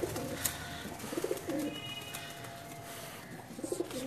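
Rampuri pigeons cooing among Teddy pigeons in a loft: soft, low repeated coos recurring through a steady, faint background hiss, with no voices.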